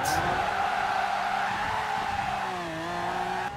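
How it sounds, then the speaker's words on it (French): A car drifts in the Forza Horizon 4 racing game, its engine droning steadily while the tires hiss and squeal through a continuous skid for a few seconds, loud and close, with no talking. "Un petit drift pour arriver sur l'autoroute."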